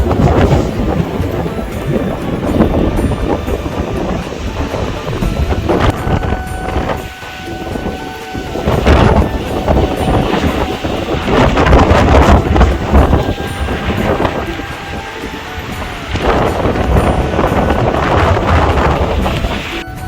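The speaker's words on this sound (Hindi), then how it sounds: "आखिरकार बारिश स्टार्ट हो गई है।" Heavy rain driven by strong wind during a storm in Kashmir, a loud, dense roar with gusts that swell and buffet the microphone, unbroken throughout.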